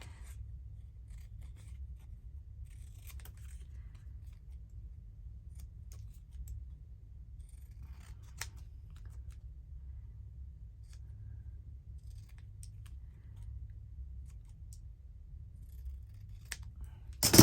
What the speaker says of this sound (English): Just move my fabric scissors over there so I can cut this one out.